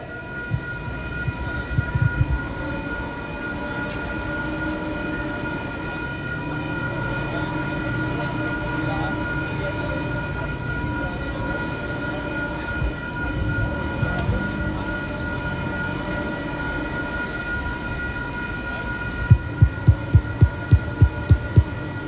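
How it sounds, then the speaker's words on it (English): A train passes near an outdoor street-preaching spot, giving a steady, loud rumbling hum with sustained tonal drones, and a quick run of rhythmic thumps near the end. "You hear the train"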